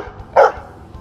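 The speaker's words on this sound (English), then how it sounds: "this is my dog, Roscoe." A single short, sharp bark from a pet dog rings out close and loud against quiet surroundings.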